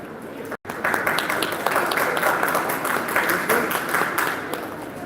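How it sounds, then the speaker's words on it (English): Students in a college auditorium give a keynote speaker a big round of applause. The dense, steady clapping from the crowd starts after a brief silent gap and carries on to the end. "A huge round of applause"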